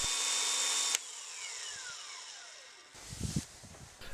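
A magnetic drill with an annular cutter boring a 3/4 inch hole in steel gives a loud steady whine that slowly falls in pitch, then a sudden drop to rougher clatter and knocks as the cut ends.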